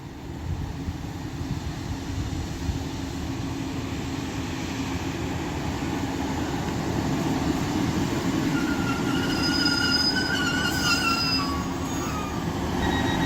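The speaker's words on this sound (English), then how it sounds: "Now getting ready to depart is the 1656 Northern 1658 Northern service to Rochdale." A Northern Class 156 diesel unit departs Castleton station on the service to Rochdale, a loud, steady engine and rolling rumble filling the whole stretch, with faint wheel squeal rising near the end.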